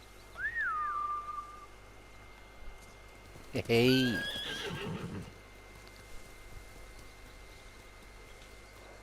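In the video game Ghost of Tsushima, a short rising-then-falling whistle calls a samurai horse, followed a few seconds later by a loud, quavering neigh over a steady ambient background, with a brief spoken word nearby.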